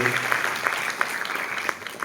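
Audience applause at a national seminar on the Sindhi community's contribution to India, a steady wash of many hands clapping throughout, moderately loud with a few sharper individual claps standing out.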